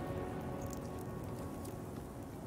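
Steady, dense rain hiss in a video game fills the whole stretch, a constant wash of patter with no voices over it.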